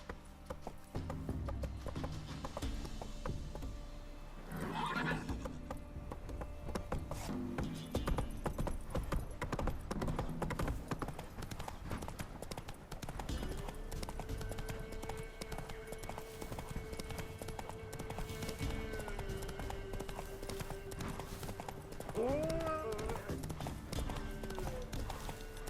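Roach the horse clip-clops along in The Witcher 3, hooves beating a steady, quick rhythm under game music and ambience, with a brief whinny-like sound near the end.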